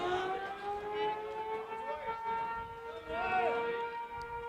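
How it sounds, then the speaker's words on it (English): Civil defense tornado sirens wail steadily on a Friday afternoon at a Lindsay high school baseball game, a sustained rising and falling tone carrying over the field for the whole stretch while a commentator talks. "Looks like tornado sirens going on now, as it's Friday afternoon."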